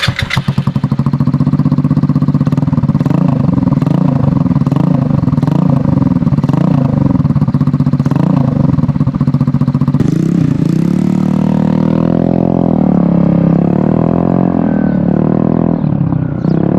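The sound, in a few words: Honda Ruckus scooter GY6 engine running without exhaust silencer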